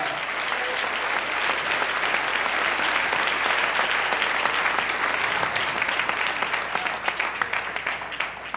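A church congregation gives a dense, steady burst of applause that stays loud for the whole stretch, full and close, with no talk over it.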